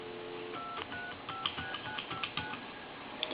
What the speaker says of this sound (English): I'm going to give you some dial tone, and I'm going to dial my number.